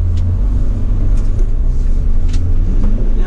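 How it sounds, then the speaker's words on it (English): Diesel engine of a 2013 Mercedes Sprinter 313 long-wheelbase panel van idling after starting, a loud close low rumble with faint clicks, no talk. "let's get the engine started up. There we go, as you can see it starts up straight away"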